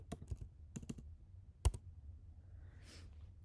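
Text being typed on a computer keyboard in a few sharp, separated clicks and short bursts, close and fairly quiet, followed by a brief soft rustle near the end.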